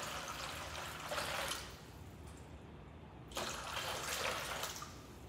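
About five gallons of water pour into a container in two long, steady gushes separated by a brief lull, close and moderately loud with no talking.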